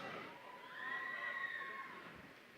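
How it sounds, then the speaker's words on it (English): A crowd at a football match cheers a goal, a faint, distant swell of shouts and cheering with some high children's voices, peaking briefly in the middle before easing off. "And no wonder there's cheering for Ashik."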